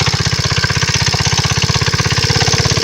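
An old motorcycle engine runs close by with a fast, even thumping beat that repeats loud and steady from start to finish.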